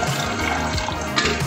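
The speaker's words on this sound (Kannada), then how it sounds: "ನಾನು ಮೆಷರ್ ಮಾಡಿ ಇಟ್ಟಿದ್ದೆ ಬಿಸಿಗೆ ನೀರು ಅಷ್ಟು ಹಾಕ್ಬಿಡ್ತೀನಿ" Measured water pours in a steady, loud, close stream into a pot set to heat for cooking rice, with a continuous splashing rush that doesn't let up.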